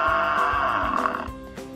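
A zebra neighs as a story sound effect, a close, loud, quavering whinny lasting under two seconds, with a softer breathy tail at the end.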